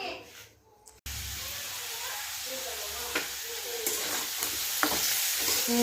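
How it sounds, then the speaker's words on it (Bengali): Potato and bitter gourd pieces frying in a pan: a sudden loud, continuous sizzle that starts after a short quiet moment, with occasional stirring clinks and a voice speaking softly over it. "এখানে একটু আলু উচ্ছে ভাজা করছি"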